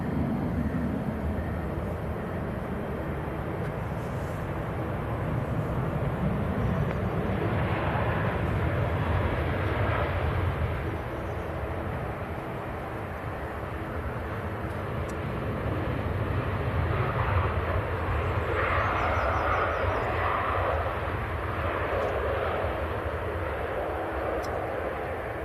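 Two Aer Lingus airliners in retro livery taxi out together at Manchester Airport. Their engines make a continuous broad rumble and whine from a distance, swelling slightly and then settling, with no talking.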